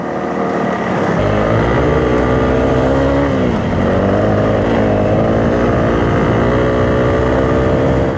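A Honda CRF 300 L dual-sport motorcycle climbing uphill off-road, its 300 cc single-cylinder engine droning loud and close with a steady pitch that rises and dips as the rider works the throttle; no talking.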